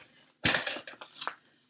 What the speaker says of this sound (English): I'm going to use my scissors.